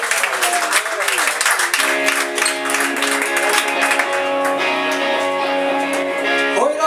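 Audience applause at a small club concert as the band is introduced, a dense wash of clapping that swells while sustained stage tones and a voice come in over it.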